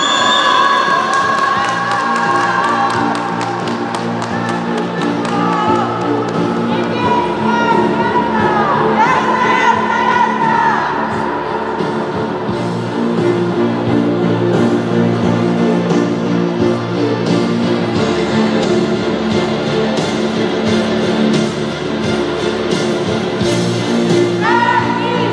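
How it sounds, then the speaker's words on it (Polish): At the closing ceremony of a youth Dragon Tournament in the Europa League, a crowd claps and cheers for a podium team. Loud, continuous cheering and applause with children's shouts and whoops carries on for the whole stretch under music. "Wielkie brawa!"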